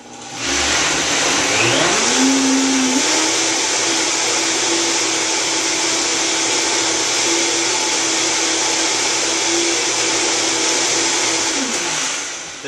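A blender runs loud and steady, close by, whirring through a coconut, almond, dill, basil, garlic and date dressing; the motor spins up, holds an even roar for about ten seconds, then winds down.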